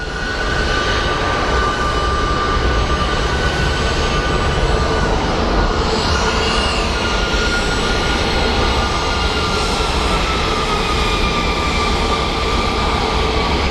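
A jet airplane at Phoenix Sky Harbor airport roars steadily and loudly for the whole stretch, a broad continuous engine rush with a faint shifting whine and no voices.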